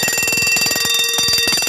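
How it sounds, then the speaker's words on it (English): A Vanguard Thermosonic V5 heat detector alarm rings loudly and continuously up close, a rapid mechanical ringing like a wind-up clock bell, with no voices. "You have your alarm going off."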